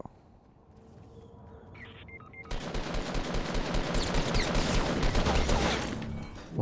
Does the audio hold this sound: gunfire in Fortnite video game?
yes